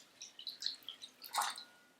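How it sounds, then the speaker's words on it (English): Water trickles and drips into a small, flat glass relish dish in a quick series of light splashes, quiet and close, ending in a brief fuller pour. "So I'm going to fill this one with water."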